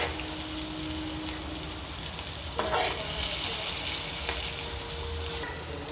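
Stuffed bitter gourds (karela) frying in a pan, a moderate sizzle with a couple of sharp clinks or turns, faint background noise and some low voice-like sound underneath.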